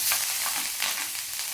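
Garlic and green chillies crackle and sizzle in hot oil, a close, lively hiss with small pops over a short moment.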